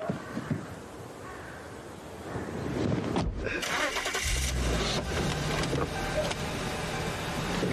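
A car engine cranks and catches partway through, settling into a low running rumble close by, with faint background noise before it.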